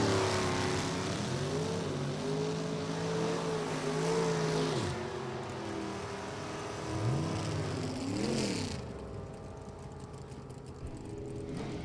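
A 69 Camaro drag car with a 498 cubic inch Chevrolet engine and a rival car roar off the line at an NHRA event, engines wailing and shifting as they pull away, heard at a distance over crowd ambience.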